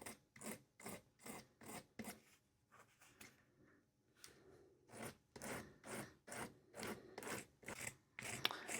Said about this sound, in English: let's do a little edge sanding. This is just a little 1/4 inch sanding stick.